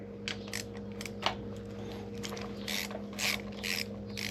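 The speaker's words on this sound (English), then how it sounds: "we'll go ahead and remove the bolts that hold the valve cover in place" A ratchet loosens the valve cover bolts on a SONEX AeroVee aircraft engine, with bursts of rapid pawl clicking that start and stop over a steady electrical hum, close by and without speech.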